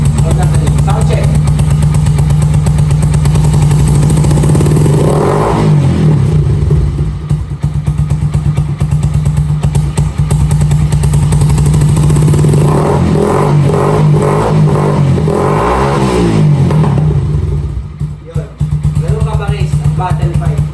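A Honda TMX motorcycle with a bottle pipe exhaust idles loud and close with a deep, steady burble, rising twice into strong revs. Someone talks briefly in the middle.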